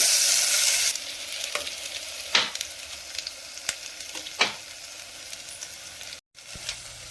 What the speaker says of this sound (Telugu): ఫస్ట్ అల్లం వెల్లుల్లిపాయ పేస్ట్ అయితే వేస్తున్నాను.